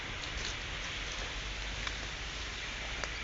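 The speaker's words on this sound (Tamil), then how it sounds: "மழை இப்போ அதிகமாகிடுச்சு கொஞ்சம்." Steady rain falls outdoors on a hill-country road trip, a constant soft hiss with a few faint droplet ticks and no voices.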